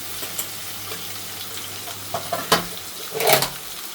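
Methi gatta curry sautéing in oil in a Kathiyawadi-style pan, a soft steady sizzle broken by a few louder stirring scrapes and spatters, with no one speaking.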